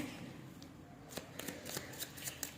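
Tarot cards are shuffled by hand in quiet, soft bursts of riffling and flicking, several quick crisp taps close by, with faint background hiss and no talking.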